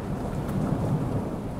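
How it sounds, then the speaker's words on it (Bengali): Heavy rain pours in a dense, steady roar with low thunder rumbling underneath, close and continuous for the full brief stretch. "এবং তেমনই জোরে বৃষ্টি শুরু হয়।"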